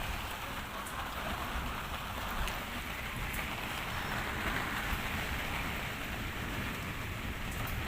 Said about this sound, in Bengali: ছোড়া বৃষ্টি হচ্ছে তো